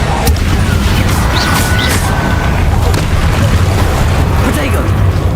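A fire spell blasts in Hogwarts Legacy, a loud, dense roar of booming, crackling energy that holds steady throughout, with a voice speaking over it.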